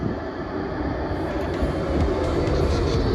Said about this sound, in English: We now have the tram coming.